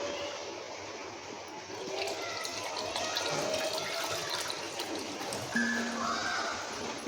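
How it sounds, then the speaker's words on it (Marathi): Herbal ajwain extract liquid poured through a strainer, a steady trickling and splashing of water running continuously with faint squeaks and clinks from containers, no voices. "आता हे सर्व गाळून घेणार ना?"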